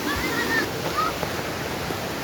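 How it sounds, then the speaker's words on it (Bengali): Shoilo Propat waterfall in the hill country gives a steady, moderate rush of falling water, with a few faint whistling or chirping tones drifting over it. "শৈলপ্রপাত, এটাকে শৈলপ্রপাত ঝর্ণা বলে।"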